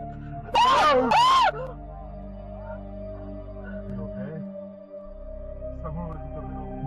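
A woman screams twice in quick succession, loud and close, recorded by a car's rear camera, followed by a steady hum with faint distant noises.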